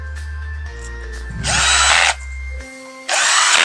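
Power drill driving screws into a petrol pump push-button housing, with two loud bursts of high whirring drilling separated by quieter handling and motor hum, close up, no talk.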